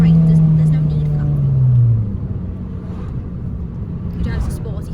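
A sporty Fiat 500 Abarth being driven gives a loud, close engine drone that rises in pitch and then drops away about two seconds in, leaving a low rumble of road noise for the rest.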